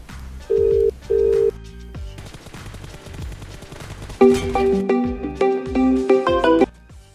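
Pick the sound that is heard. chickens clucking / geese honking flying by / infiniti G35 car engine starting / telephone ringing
telephone ringing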